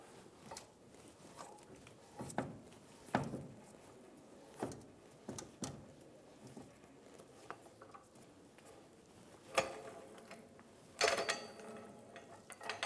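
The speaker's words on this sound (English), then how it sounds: "We're going to go down on our jack." A floor jack is lowered from under a 2007-2011 Toyota Camry during a transmission mount job, faint scattered metallic clunks and clicks spaced irregularly, quiet and close in a workshop.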